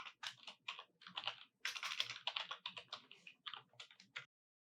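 Rapid keystrokes on a computer keyboard while code is typed, a close, dense run of clicks in quick bursts with brief pauses, no voices.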